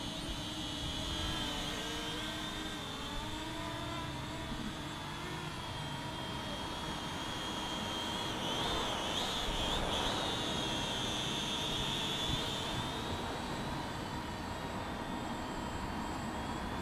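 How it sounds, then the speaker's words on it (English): Eachine E58 folding pocket drone whines steadily at a high pitch as it flies, its small rotors buzzing continuously with slight shifts in tone, fairly faint and alone. "this is the Eachine E58 folding pocket drone"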